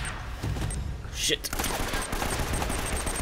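Rapid automatic gunfire in Uncharted: Drake's Fortune rattles in bursts during a fortress firefight, with a player muttering over the shots.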